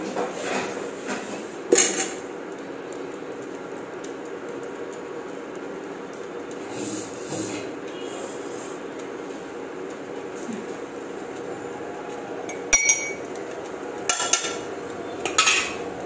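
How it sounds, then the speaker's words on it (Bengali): Tea strained and covered in a home kitchen: faint clinks of utensils and pot handling, with a few sharp metallic knocks and clatters near the end. "চাটা ঝটপট করে ছেঁকে নিয়ে ঢাকা দিয়ে রাখি, নইলে চাটা ঠান্ডা হয়ে যাবে"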